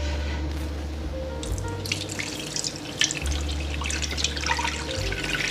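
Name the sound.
straining sorrel hibiscus juice through cheesecloth sieve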